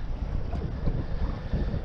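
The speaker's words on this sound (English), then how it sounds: "the wind ain't showing no signs on the weather of dying down until almost sunset" Strong wind roars across open water on a cold winter catfishing trip, a steady low buffeting rumble hitting the microphone without pause.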